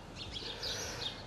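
Small birds chirp and tweet in a backyard where they are being fed, giving quick high calls at moderate distance over a quiet outdoor background.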